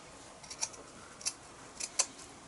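Scissors trim excess shop towel off a homemade tight-fitting mask, giving a few faint, crisp snips spaced apart in an otherwise quiet room.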